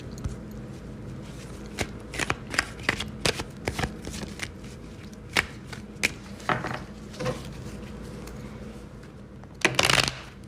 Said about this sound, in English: Let's pull one more card here.